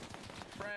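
Rapid bursts of gunfire crack in a military shooter game training session, a short fast volley over game background noise.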